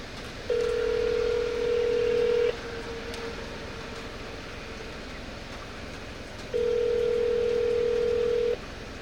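Phone call ringing out to a Waffle House restaurant: two long, steady ringback tones about two seconds each, separated by a four-second gap, heard clearly over faint background noise with no talking.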